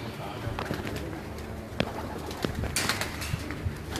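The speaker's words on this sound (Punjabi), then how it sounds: "ਲਓ ਜੀ, ਹੁਣ ਕਬੂਤਰਾਂ ਦਾ ਸ਼ੌਕ ਕਰੋ" Pigeons kept by a hobbyist coo softly in a loft, low throaty calls repeating over a busy background of shuffling, wing flutters and clatter, with faint voices around.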